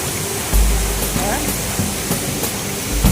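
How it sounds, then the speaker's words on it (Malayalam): Constant rushing roar of Thoomanam waterfall at Akamala, loud and broadband, with a few brief bumps and faint voices underneath. "സൂപ്പർ വെള്ളച്ചാട്ടം"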